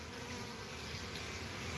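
Honey bees buzz loudly and without a break at the entrance of their hive in winter. The dense, steady hum of many wings fills the air close to the listener, with no voices.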